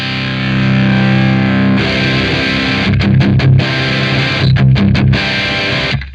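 Distorted electric guitar run through a Soldano SP77 pedal recreation into a Mad Amp GT120 emulation, heavy sustained chords followed by palm-muted chugs and short stabs with brief gaps, loud and up close with no voices.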